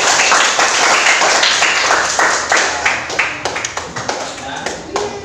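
A classroom group of pupils claps hands together, loud and close, a dense patter that breaks into uneven rhythmic claps toward the end.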